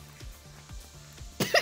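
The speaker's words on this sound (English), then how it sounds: "I have a cough, like, or something." Several short, muffled coughs or hiccup-like jerks repeat close by at a steady rhythm, followed by a louder burst at the end.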